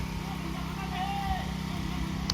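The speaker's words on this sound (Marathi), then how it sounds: "मशीननी पाणी उपसत आहेत." A motor pump draws water out of a shrinking river pool, its engine droning steadily and close throughout, with a faint rhythmic thrum underneath.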